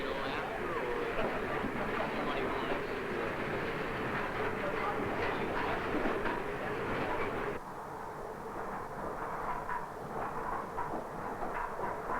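Train moving on rails during a ride on the way to Everest: a steady, continuous rumble and rattle of the cars, fairly quiet and even throughout, shifting slightly in tone partway through.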